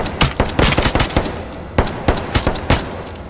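Bursts of gunfire in H1Z1, sharp repeated shots in quick irregular volleys with short pauses between them, loud and close with no talking.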